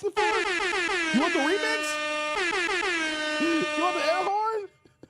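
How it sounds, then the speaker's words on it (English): A loud, blaring air horn sounds in two long, sustained blasts with shifting pitch, nearly continuous, then cuts off abruptly. "You want the air horn?"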